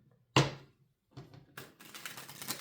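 Tarot cards shuffled by hand: a sharp riffle burst near the start, then a quieter broken stretch of soft card slaps and a longer rustling riffle toward the end, close by with no talk.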